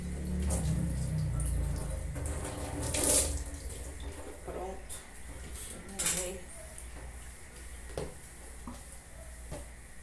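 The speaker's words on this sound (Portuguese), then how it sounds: "louça lavada" Dishes, pots and cutlery washed at a kitchen sink, running tap water with repeated clinks and clatters of utensils and crockery, close and continuous with occasional louder knocks.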